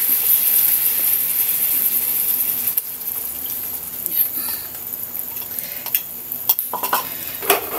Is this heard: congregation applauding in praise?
no